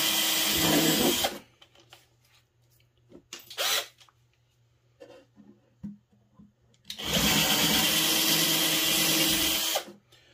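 A power drill whirs loudly for a second while drilling holes for trim tabs on a Seaducer SD4 build, then quiet clicks and handling noises, and later a long sustained drilling run of about three seconds.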